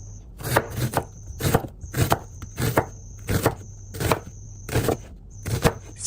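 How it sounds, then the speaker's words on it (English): A knife slices onions on a board in steady, evenly spaced chops, about a dozen crisp close thuds with short gaps, loud and clear with no talking. "Slice some onions."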